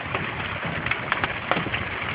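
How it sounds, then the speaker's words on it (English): A dense, steady patter of hail falling in a mountain shower, with scattered sharper ticks as stones strike surfaces nearby, continuous and fairly loud. "little mountain shower with some hail going on"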